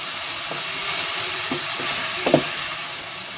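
Saffron milk cap mushrooms and potatoes fry in a pan, making a constant dense sizzle with a few faint scrapes and taps as they are stirred, and no voices.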